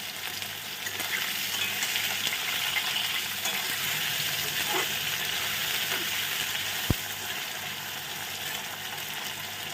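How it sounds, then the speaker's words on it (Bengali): Potatoes coated in salt and turmeric fry in oil for a village-style small fish dish, giving a steady, close, continuous sizzle throughout with one sharp click partway through and no talking. "তো আলুটা সুন্দর করে আগে ভেজে নেব।"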